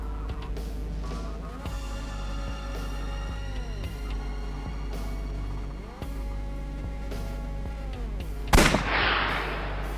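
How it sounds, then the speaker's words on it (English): A single sharp gunshot blast rings out in AI: The Somnium Files, bursting loudly near the end over a steady drone of game music and ambience. "I'll try shooting it."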